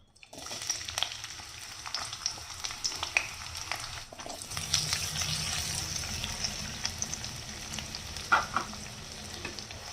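Chopped onion frying in hot oil in a wok, a steady close sizzle with scattered crackles and the occasional stir or scrape, no voices.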